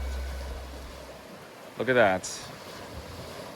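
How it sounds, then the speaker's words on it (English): River water in Cle Elum, Washington flows past with a continuous, moderately loud rushing wash. A person briefly speaks over it partway through. "Sound of the water passing through."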